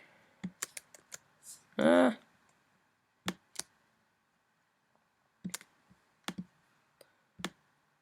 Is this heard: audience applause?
no